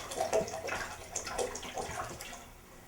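Slightly warm tap-water overflow from a distillation condenser drains through plastic tubing into a 5-gallon pot, a close, uneven splashing trickle that rises and falls.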